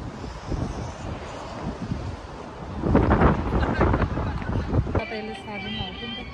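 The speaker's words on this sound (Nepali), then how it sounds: "ल फेरि हावा चल्यो" Outdoor wind gusting straight into the microphone, a rough, buffeting rumble that swells and fades, with indistinct voices faintly underneath.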